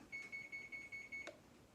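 A kitchen oven beeps six times in an even, rapid rhythm, clear and close, followed by a soft click in a quiet room.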